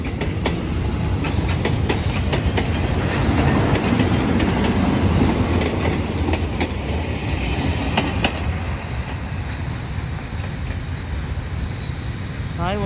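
Long SRT freight train No. 721 rolls past close by, a steady loud roar of wagons with clacking wheel beats on the rails and brief squeals near the end.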